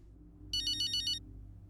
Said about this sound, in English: Get a phone call.